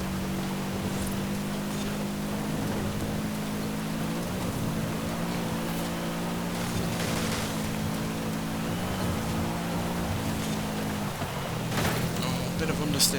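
In Forza Horizon 5, a car's engine drones steadily while it ploughs through deep water, with a constant rushing wash of spray over the top and a few surges in the engine note.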